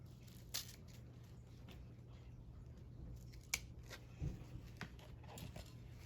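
Scissors trimming ribbon on a homemade Valentine wreath, a few quiet, sharp snips spaced apart against a near-silent background.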